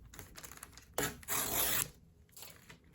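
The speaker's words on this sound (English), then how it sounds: "And then I'm going to tear this as well." Tea bag paper torn by hand for a junk journal embellishment, a sharp papery rip lasting under a second after faint rustling and handling, close and fairly quiet, with a softer rustle following.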